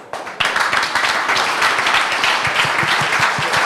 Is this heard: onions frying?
no